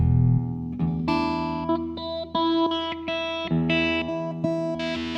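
A Godin Multiac Spectrum SA guitar through a synth patch plays a series of sustained, tonal notes with abrupt changes, no voices.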